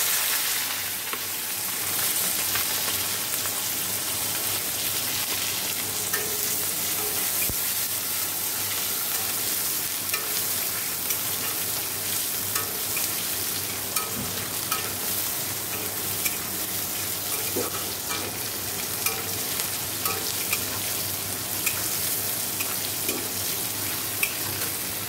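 Fried potatoes with a tempering of cumin, nigella and dried red chillies sizzle steadily in a pan, a continuous close hiss with scattered pops and scraping stirs throughout, no speech.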